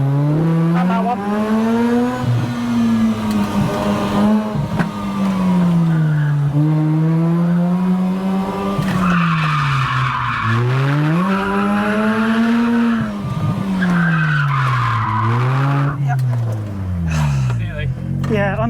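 A rotary-engined Mazda MX5 drifts around a go-kart track, its loud engine note rising and falling in repeated swooping revs through the corners, with tire squeal layered over the constant close engine roar.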